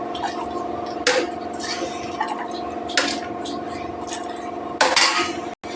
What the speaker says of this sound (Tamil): இப்போ இதோடைய தண்ணியை நம்ம எடுத்துக்கலாம்.